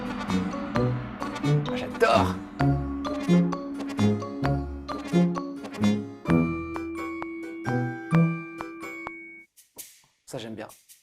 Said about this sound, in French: je veux une cymbale et un gong